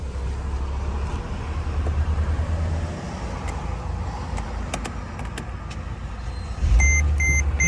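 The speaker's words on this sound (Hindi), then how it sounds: "गाड़ी स्टार्ट हो गई है" A car with a no-crank, no-start fault runs after its relay is activated: a steady low engine rumble, close and continuous, that swells louder near the end.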